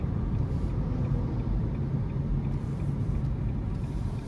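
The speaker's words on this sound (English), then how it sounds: "we're gonna give it some throttle getting on the interstate here" A 2023 Nissan Leaf SV Plus electric car accelerates onto an interstate, producing a steady low road rumble and cabin drone from inside, continuous and even with no voices.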